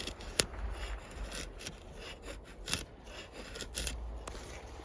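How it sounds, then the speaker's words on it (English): Worktuff Commander knife with a convex grind cutting into wood, giving soft scraping and shaving strokes with a few sharper cuts, close and fairly quiet, no voices. "It really slides through the wood easily because of the convex grind."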